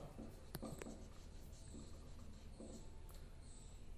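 A pen scratching on paper while a journal entry for an accounting exercise is handwritten, faint and close, with short strokes and occasional taps over a soft hiss and no talking.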